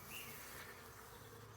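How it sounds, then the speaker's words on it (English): Honey bees from a neighbouring hive buzzing around a hive frame as the colony is being installed, a faint, steady drone close by with no talking. "So you can see a bunch of bees gathering on this"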